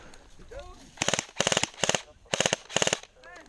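Airsoft gun shots fired in short rapid bursts, five loud cracking volleys of several shots each with brief gaps between, outdoors, with someone speaking faintly before and after the bursts.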